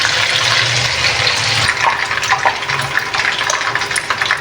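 Fish sizzling loudly in hot oil in a pan for a fried fish curry, a dense steady crackle and hiss with brief spattering pops, continuous and close throughout.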